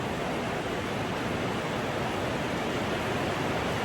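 Heavy rain pours down steadily during a sudden storm, a dense, unbroken roar of water that stays loud and even from start to finish with no voices.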